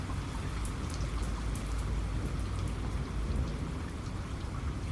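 Steady rain patters densely on a surface during a storm, with a low distant thunder rumble underneath, continuous and even throughout.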